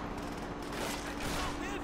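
Rapid automatic gunfire rattles continuously in Call of Duty: World at War, dense overlapping shots at moderate volume, with someone talking over the battle.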